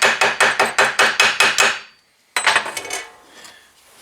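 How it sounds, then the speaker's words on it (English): A small chipping hammer knocks slag off a fresh weld in a quick run of about eight sharp metallic raps, then a pause and a looser cluster of lighter clinks and scraping taps, loud and close with no talking. "A little chipping hammer, and get that slag off of there."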